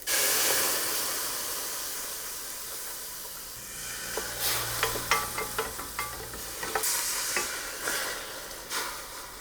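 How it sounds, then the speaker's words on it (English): White wine hits a hot pan of mushrooms and garlic to deglaze it, giving a loud steaming hiss that eases into a steady sizzle. Scattered spoon scrapes and clinks sound against the pan. Nobody speaks. "I'm actually gonna deglaze with that white wine"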